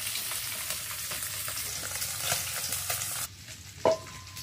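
Fish sizzles and fries in a pan on one of two home stoves, with steady crackling spatter and some stirring before the sizzle drops away to near quiet and a brief clank.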